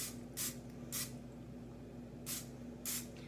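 Cooking spray hisses onto a brownie pan for gluten-free brownies in four short bursts, two close together early and two more a second later, standing out clearly over a steady low kitchen hum.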